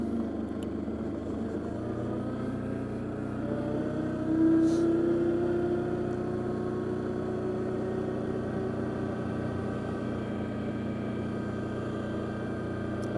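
Arctic Cat Diesel 700 engine on a trail ride, a steady low drone that holds through the whole stretch with a slight swell in the middle, close and fairly loud, with no voices over it.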